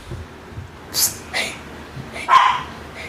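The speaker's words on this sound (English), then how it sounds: "case you don't know what a small dog sounds like" A small Pomeranian dog gives a few sharp, high yips and barks spread over a couple of seconds, fairly close, with quiet gaps between them.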